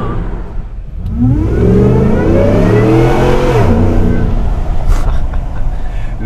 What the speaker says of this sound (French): Le mélange du gros V8 et du compresseur est superbe.